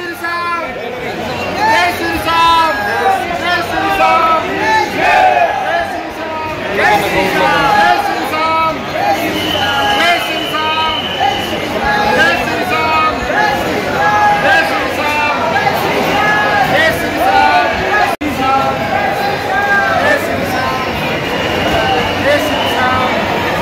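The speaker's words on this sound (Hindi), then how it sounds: "इतनी भीड़ उन्होंने पहले कभी नहीं देखी" A huge pilgrim crowd at the Khatu Shyam temple near Ringas, towards Sikar, on Nirjala Ekadashi. Dense, loud babble of many overlapping voices runs without a break, with chatter close by.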